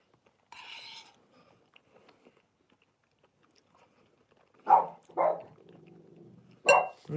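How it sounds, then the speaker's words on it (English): Dog barking in a few loud, close bursts near the end, after a quiet stretch with a short faint rustle early on; no one talks. "Dog's barking."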